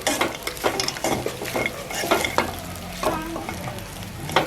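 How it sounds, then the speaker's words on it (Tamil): Sesame seed rice stirred in a pan, with repeated scraping and sizzling spoon strokes in a quick rhythm, close and fairly loud with no talk. "கொஞ்சம் கொஞ்சமாக போட்டு கிளறுங்க."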